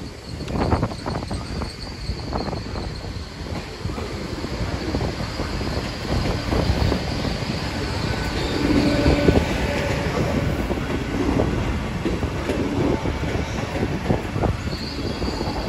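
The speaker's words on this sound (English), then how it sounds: "Here's my follower" Train passing through Exeter St Davids station, likely a class 158 diesel unit, a steady loud rumble of wheels and engine with faint wheel squeal, close by and continuous with no talking.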